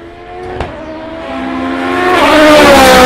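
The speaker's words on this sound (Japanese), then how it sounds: "さあ、最終コーナーから来ますよ、 NSX コンセプト GT。" A Honda NSX Concept GT race car comes out of the final corner and accelerates down the straight, its engine note rising steadily and growing louder as it approaches close by.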